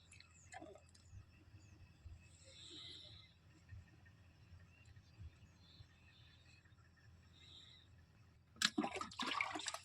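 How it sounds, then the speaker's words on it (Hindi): Wheat seed treatment solution is stirred in a bucket: after a long near-silent stretch with faint background noise, a loud burst of close sloshing, splashing liquid closes the scene. "अब इसको भली भांति बाल्टी से मिक्स कर रहे हैं ताकि ये सारा घोल है वो एक रस हो जाए।"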